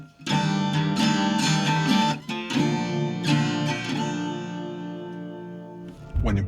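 An Enya Nova Go SP1 guitar on its built-in mild boost setting plays a short phrase of bright plucked notes and ringing chords that sustain and fade, followed by a fresh strum.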